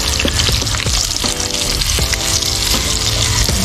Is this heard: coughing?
no